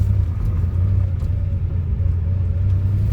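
A high-mileage Porsche 911SC's engine rumbles steadily while driving, a loud, close, deep drone with a throaty mid-range growl that holds constant for several seconds, with no talking.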